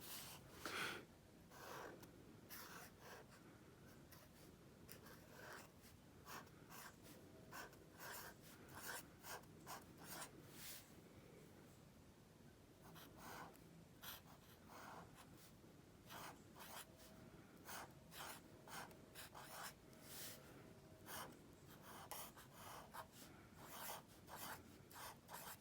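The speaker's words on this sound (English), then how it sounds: "I'm going to go ahead and write my title" A pen writes a title in a journal, with close, quiet scratching strokes in bursts and brief pauses, no talking.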